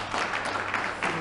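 Audience applause closing a cultural round-table talk on Mauritania, a steady patter of many hands at moderate, even level throughout without a break.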